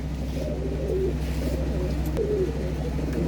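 Pigeons cooing at a village loft near Phagwara, soft low coos repeating a few times over a steady background hum, fairly close, with no talking.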